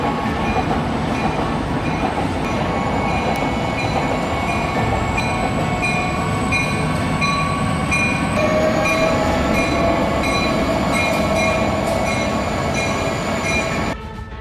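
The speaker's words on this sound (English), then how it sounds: "A train struck and destroyed the safety gate at rail crossing number 20" Train rolling past a road rail crossing, a loud, steady rumble of wheels and cars with sustained high squealing tones, close by, easing off slightly at the very end.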